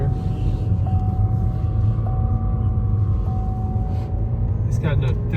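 A car with a failing transmission and no third gear is held in second gear while driving, giving a steady, loud engine and road rumble with a faint whine throughout and a brief clatter near the end.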